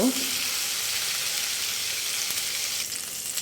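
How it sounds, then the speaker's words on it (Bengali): Chicken tandoori frying in a pan on the stove, a dense steady sizzle that runs close and loud throughout with barely any change. "তারপর ভালো করে উল্টিয়ে এটাকে আরেকটু ভেজে নেব, একটু কালারফুল করে নেব।"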